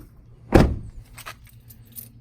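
A single solid thud of a Toyota Tundra truck door slamming shut nearby, followed by faint rattles and a quiet pause.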